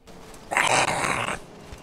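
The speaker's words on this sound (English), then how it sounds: "Get that dog off me." Police K9 dog in a video game roleplay gives one short, harsh growl lasting under a second, close and fairly loud against a quiet background.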